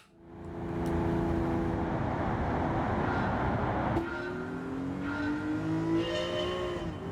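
A car engine races in Gran Turismo 7, a steady loud drone with rising harmonic sweeps as it accelerates through corners, shifting pitch around midway and climbing again, with no talk over it.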